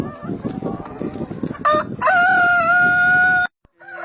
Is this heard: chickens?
yes